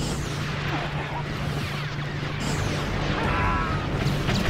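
Cannon fire in Star Wars: Empire at War, heard as a steady rumble of distant booms and battle noise under a low hum, with a sharper blast at the very end.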